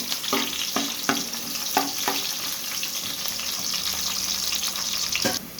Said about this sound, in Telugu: ఆయిల్ హీట్ అయిందో లేదో చూసుకొని ఆనియన్స్ వేసుకోవాలి.